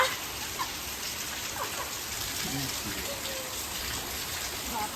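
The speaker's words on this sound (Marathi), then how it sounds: "आला रे लय मोठा पाऊस आला" Heavy downpour at Ranjangaon Ganpati hisses in a dense, steady wash, with faint voices and a few distant calls barely audible beneath it.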